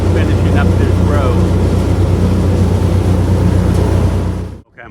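A tractor pulling a mower in a fig orchard: a loud, steady engine drone with a low rumble runs continuously, close by, then cuts off abruptly near the end.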